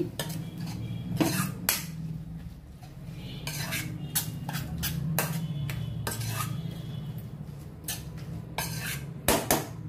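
Cabbage fry stirred with spices in a pan, a utensil scraping and clinking against the metal in repeated bursts, over a low steady cooking hum with no talking.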